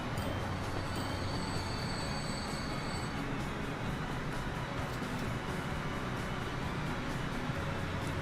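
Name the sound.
oil freight train running in the video game Transport Fever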